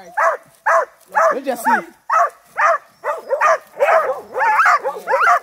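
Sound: dog barking and whimpering on a hunt in Trinidad

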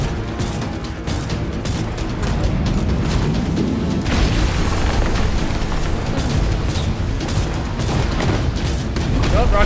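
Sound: rocket punch attack hitting, from video game Gunfire Reborn

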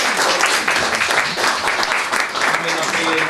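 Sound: audience applause

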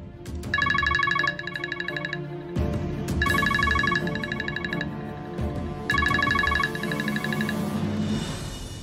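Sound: telephone ringing during a call

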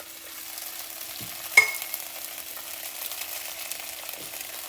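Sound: cauliflower frying in hot oil

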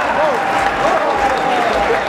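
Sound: crowd applause at rodeo

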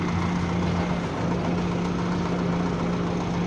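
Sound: tractor engine running while sowing peas

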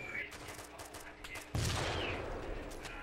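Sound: gunfire in the video game Arma II

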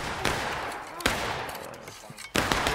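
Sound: rifle volley gunfire in War of Rights video game

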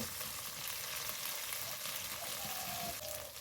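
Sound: frying spice paste with salt for potol posto

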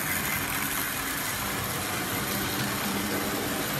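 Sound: Duchess of Sutherland model locomotive running past

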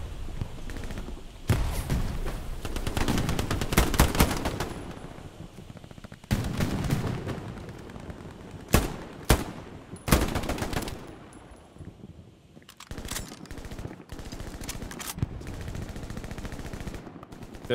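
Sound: shotgun gunfire in a video game

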